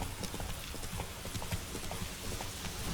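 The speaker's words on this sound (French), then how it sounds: "T'appelles le cheval, il arrive de l'autre côté." A horse's hooves clip-clop at a steady walking rhythm in The Witcher video game, the hoofbeats fairly faint against a low ambient backdrop.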